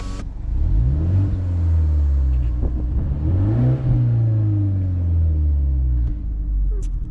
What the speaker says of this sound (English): It has like that piped in exhaust noise.